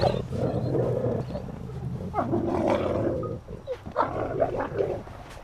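A wolf dog with low wolf content vocalizes in a long, continuous run of deep, harmonic howl-like moans and growly whines, loud and close, rising and falling in pitch with no talking.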